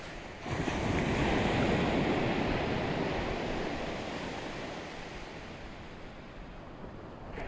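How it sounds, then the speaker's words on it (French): Steady roar of ocean surf washing in, broad and full, slowly easing in intensity with no voices present. "Comme si deux vagues s'entrecroisent."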